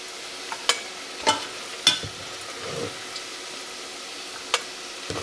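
Crisp ticks and scrapes of a utensil stirring rendered bacon in a frying pan of hot oil, a few sharp clicks scattered over a faint, steady sizzle, with no talking.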